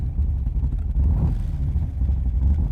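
A 1965 Shelby Cobra Backdraft engine rumbles low and steady while driving, then swells as the throttle is eased, a deep continuous growl close by.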